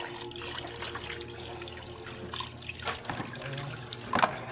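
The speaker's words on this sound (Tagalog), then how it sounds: "Hugasan natin ng may asin para natatanggal yung lansa niya." Raw chicken being washed in salted water at a sink, heard as a steady running and splashing wash throughout, with a louder splash near the end.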